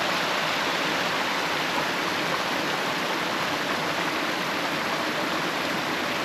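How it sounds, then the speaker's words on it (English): A mountain stream in Eryri rushes and gurgles close by, giving a steady, dense wash of flowing water that fills the whole stretch, with no voices over it. "So we're just following this stream up."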